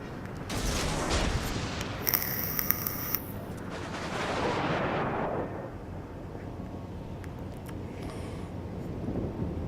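Naval guns firing in World of Warships during a cruiser and destroyer battle, heavy booming blasts and rumbling salvos over a dense, continuous battle din, with a sharper burst partway through.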